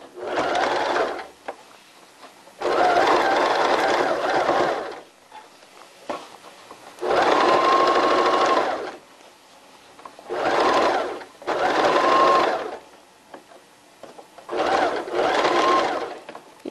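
A sewing machine stitches elastic and lace onto underwear, running in six separate bursts of steady mechanical whirring with short quiet pauses between them.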